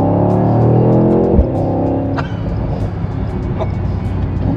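A 2024 Mercedes-AMG GT63 engine pulling hard with a loud rising growl, then dropping through downshifts with a brief bark and crackle, heard close from inside the car.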